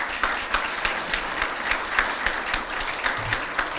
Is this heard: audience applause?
yes